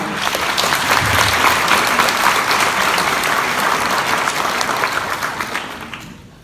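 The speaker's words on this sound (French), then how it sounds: "Applaudissements." Sustained applause from an audience in a lecture amphitheatre at a law students' debate final, dense and steady for several seconds before fading out at the end, with no voices over it.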